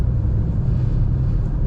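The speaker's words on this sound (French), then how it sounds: "1, 2, 3, 4, 5 bagnoles qui passent." Steady low road rumble of cars going by on a Corsican village road, a continuous near drone with no clear gaps between vehicles.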